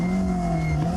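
A rally car runs flat out through Stage 14 of the 2011 Sasol Rally, its engine a loud, steady, sustained drone held close at high revs.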